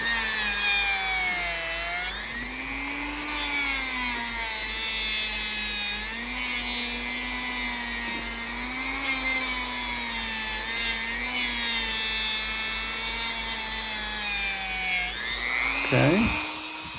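Guitar frets on a bass build are polished to remove 600 grit scratches, making a continuous whirring, grinding whine that wavers in pitch, then cuts off near the end.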